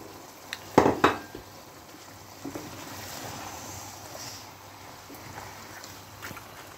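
Boiled potatoes and carrots get mixed in a cooking pot with a couple of sharp utensil clanks, then quieter, softer stirring sounds.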